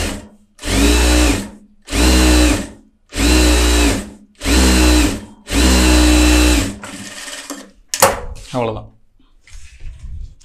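A tailor's sewing machine stitches cloth in five even, loud motor bursts of about a second each, separated by short pauses. A few quick clunks from handling the machine and fabric follow.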